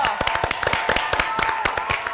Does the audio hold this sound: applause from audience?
yes